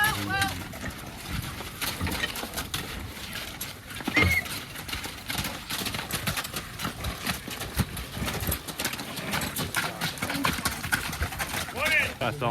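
Draft horses at an old-fashioned horse pull hitched to a heavy load, with hooves clopping and the odd whinny under continuous talk from people nearby and outdoor commotion.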